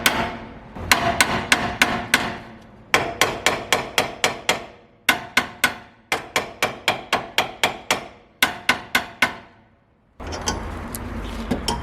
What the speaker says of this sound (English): I'm going to give it a few hits just to loosen up everything